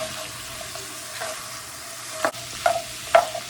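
Garden vegetables and Italian sausage cook in a pan, a soft steady sizzle with a few scraping stirs of a utensil near the end.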